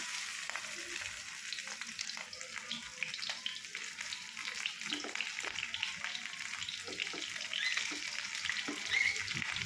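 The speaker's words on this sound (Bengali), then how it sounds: "তিনটে চারটে করে একবারে ফ্রাই করছি" Three or four pomfret fish, topped with spiced onion masala, fry together in a pan, producing a steady, fairly soft crackling sizzle with scattered pops that grows slightly louder toward the end.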